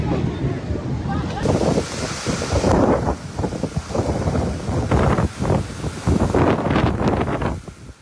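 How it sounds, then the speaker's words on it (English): Cyclone Bilal on Reunion Island batters the microphone with roaring gusts and heavy pouring rain, a loud, continuous rushing storm with surging bursts throughout. "It screams with gusts of wind and pouring rain."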